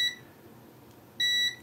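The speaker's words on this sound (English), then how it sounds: "So meter in continuity mode, do I get a beep?" A multimeter in continuity mode beeps while probing small capacitors on a faulty Nintendo Switch board: a short, sharp electronic tone, then a quiet gap, then a second, longer beep, clear and close.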